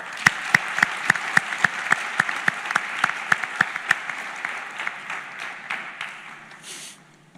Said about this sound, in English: A round of applause for the verse choir.